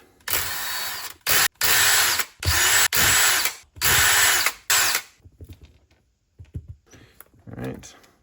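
A power drill whirring in several short loud bursts close up to back off an RC car wheel, followed by quieter handling clicks of the wheel being removed.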